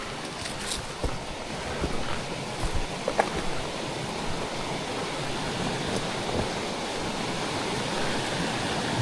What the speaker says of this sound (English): a creek over there